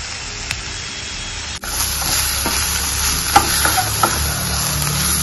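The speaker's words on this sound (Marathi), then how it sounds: "छान मिक्स करून घेऊया आपण. असं छान परतून घ्यायचं आपण हे." Bread and potato patty mixture being stirred and sautéed in a hot pan, a steady close frying sizzle with spoon scrapes and a few sharp clicks, no voices.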